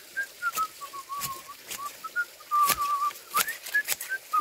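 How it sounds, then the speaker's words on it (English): Someone whistles a wavering, jaunty tune outdoors, a thin melodic line running through the whole clip, broken by sharp knocks and thuds nearby. "Can you whistle, please?"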